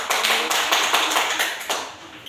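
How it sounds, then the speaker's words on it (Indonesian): Classroom applause after a student presentation on the human respiratory system: a steady, dense patter of many hands clapping together for about two seconds, fading slightly at the end. "Baik, kita berikan aplaus"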